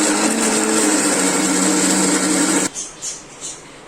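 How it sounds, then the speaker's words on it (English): A mixer grinder purees a spiced mixture into a fine paste for shahi dum aloo, a steady loud whirring hum that cuts off abruptly, followed by a few faint rattling spins as the blades wind down. "add this mixture to grinder jar and make a fine paste"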